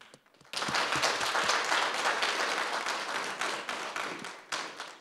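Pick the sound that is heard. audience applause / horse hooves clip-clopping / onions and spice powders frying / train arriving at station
audience applause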